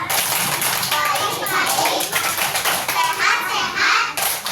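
Elementary school children in a classroom perform a rhythmic clapping chant, their young voices and hand claps blending in a lively, loud group response throughout.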